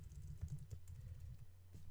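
Computer keyboard typing while a snippet is set up in a PHP coding workflow, a steady run of soft, close key taps with no talk.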